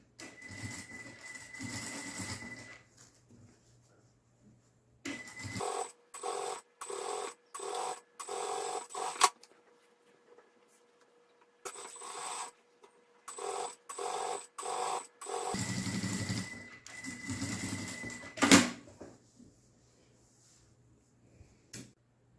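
Sewing machine topstitching along the lining edge of a fabric pouch, in short bursts of rapid stitching separated by pauses, fairly quiet and close.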